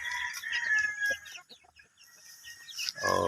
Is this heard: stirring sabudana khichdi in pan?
no